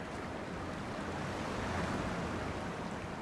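Wind and surf around an island in the video game Dear Esther, a quiet continuous wash of waves and breeze, even and unbroken with no voices.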